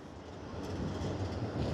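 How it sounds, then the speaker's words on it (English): Tram pulling in toward North Station, a steady low rumble of rolling wheels that builds slightly as it nears, heard alone with no talking. "Here comes the tram for North Station."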